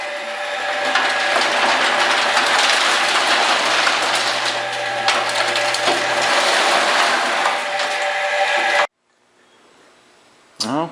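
A tumbler churning with the steel fuel tank from a 1977 Chrysler Cordoba inside. It makes a loud, steady grinding rumble and rattle that stops abruptly, followed by near quiet and a short thump at the end.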